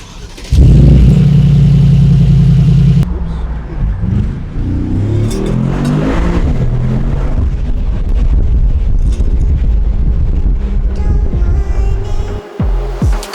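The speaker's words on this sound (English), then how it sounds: "This is the company car. It's heaps of fun. It goes really fast." A car accelerates hard from close by, starting with a loud low throbbing engine note before the pitch climbs through the gears and settles into a sustained drive with steady road roar.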